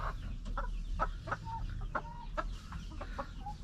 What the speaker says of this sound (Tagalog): Papaliguan ko tong mga manok na to mga kanipi.